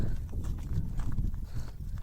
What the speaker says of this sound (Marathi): आपली गाय आत्ता मी घेऊन चाललोय